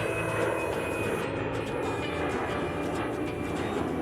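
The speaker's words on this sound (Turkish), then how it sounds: "Bir uçak geliyor hem de çok süratli bir uçak." A steady whirring engine drone holds throughout, loud and close, like a small toy plane buzzing past with no pauses.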